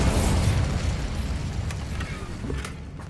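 Bombarda spell blast from Hogwarts Legacy, a loud low rumbling explosion with a sustained boomy roar across the clip and a small secondary pop near the end, no talking.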